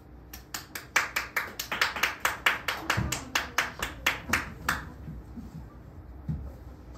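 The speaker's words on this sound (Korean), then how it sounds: "박수 한번 쳐주세요." Children clap together in a church children's service, a run of sharp rhythmic claps in a fairly regular beat that fades out after a few seconds, leaving quiet room tone.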